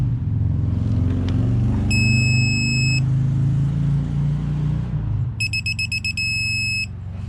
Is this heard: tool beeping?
yes